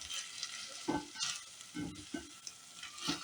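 Black beans tossed in a pan with canned fire-roasted salsa give quiet, soft sizzling and a few stirring scrapes in short bursts, close up with no voices.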